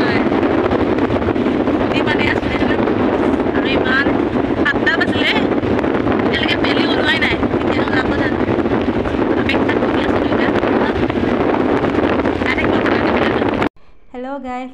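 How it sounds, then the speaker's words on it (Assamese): Cold seaside wind at Kanyakumari buffets the microphone in a loud, continuous rumbling roar for most of the clip, with voices faintly beneath it, then cuts off abruptly near the end as a brief voice comes through. "ইমানেই ঠাণ্ডা হ'ল বতাহ কেনেকুৱা মাৰিছে"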